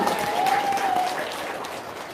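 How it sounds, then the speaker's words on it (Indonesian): A seated audience at a religious talk claps together in a brief, even burst of many hands, moderately loud, with a thin tone drifting underneath early on before the clapping settles. "Tepuk tangan dong."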